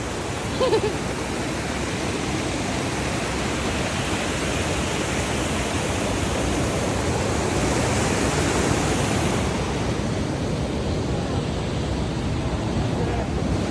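A continuous roar of rushing water from a waterfall nearby in Küre Mountains National Park, Kastamonu, broad and steady, with a faint thin sound near the start.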